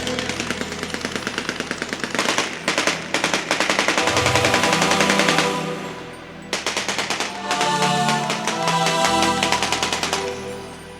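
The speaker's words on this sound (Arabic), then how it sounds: "يا شباب رجاء بلا إطلاق نار." Rapid bursts of celebratory gunfire at a wedding in Murak, sustained volleys in dense runs that pause briefly mid-way, loud over band music and crowd noise.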